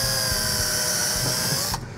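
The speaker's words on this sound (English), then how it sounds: "So now we're just going to drill pilot holes where the bracket indicated." Power drill boring pilot holes into a wall for a Chamberlain B503 garage door opener bracket, a steady close whine that runs continuously and then cuts off near the end.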